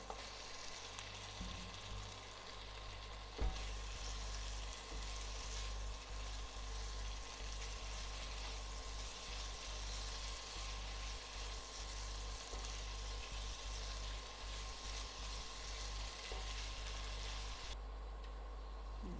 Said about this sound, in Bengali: ক্যাপসিকাম দিয়ে আমি 2 মিনিট কষিয়ে নিয়েছি